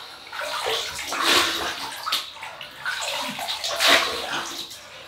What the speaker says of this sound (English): rinse the face.